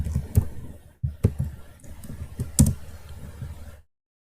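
Fingers type on a computer keyboard in irregular bursts of close, crisp key clicks with several harder taps, and no voice.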